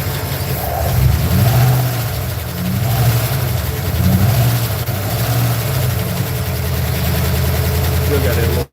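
A misfiring truck engine idles with a steady low rumble and slight uneven pulsing, close by, while a person talks over it.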